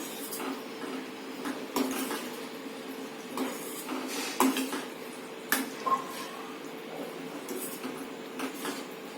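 Boiled chickpeas being stirred into gravy in a pressure cooker pot for chole chana masala, with a spoon scraping and knocking against the metal in scattered clinks and soft squelches at close range.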